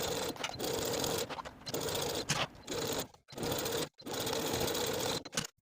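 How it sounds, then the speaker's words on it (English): Sewing machine stitching around the armholes of a lined dress bodice with a quarter-inch seam allowance, steady close whirring runs broken by short pauses and a couple of brief stops, with no talk. "I'm going to sew around each armhole with a 1/4 inch seam allowance."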